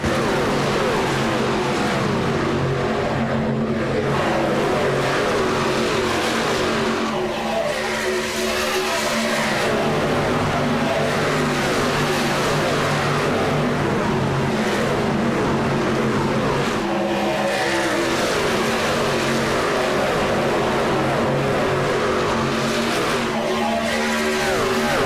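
Racing truck engines roar continuously in a sim racing game at Charlotte, loud and sustained with layered revving, occasional tire squeal and skidding, and no talk over them.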